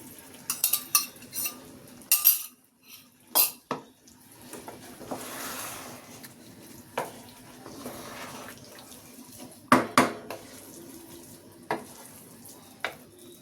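Sweetened milk mixed with ghee is poured into a pot of chicken biryani, giving intermittent splashing and clinking bursts over a faint background hiss, with quiet stretches between the pours.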